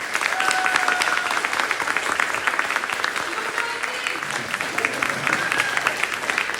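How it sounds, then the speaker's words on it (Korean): Big round of applause from an audience at a campaign wrap-up gathering, with many hands clapping in a dense, continuous patter that stays loud and steady from start to finish. "우리 큰 박수 부탁드립니다"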